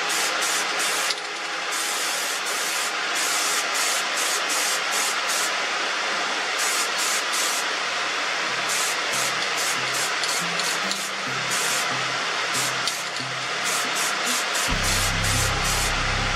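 An aerosol can sprays a coat of paint onto the headlights of a Ford Transit Connect MK1 camper van, short hissing bursts repeated in an irregular rhythm close to the listener.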